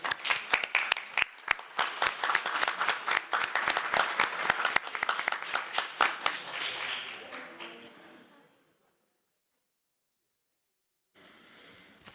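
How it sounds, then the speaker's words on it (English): Round of applause from the audience at a school board meeting, many hands clapping densely and fairly loudly for about eight seconds, tapering off into silence, then a brief quieter burst of clapping at the end. "let's give them a round of applause"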